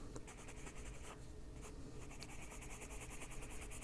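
A coloured pencil shades on paper in adult colouring, giving soft rapid scratchy strokes in a continuous back-and-forth rhythm, close and quiet with no talk.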